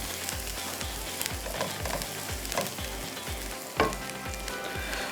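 Chopped ginger and garlic sizzle steadily in hot oil in a pan, with rhythmic stirring scrapes and clinks recurring about every half second, close and continuous with no talking.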